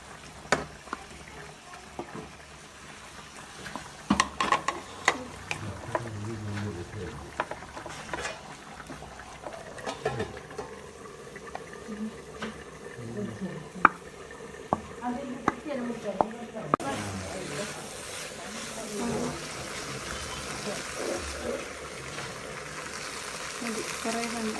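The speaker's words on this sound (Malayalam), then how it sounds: "എന്നിട്ട് നല്ലപോലെ ഇളക്കണം" Macaroni and masala stirred in a pan on the stove, with soft scraping and a light sizzle running throughout as a voice talks over the cooking.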